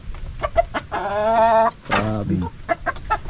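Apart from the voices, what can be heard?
giant chickens clucking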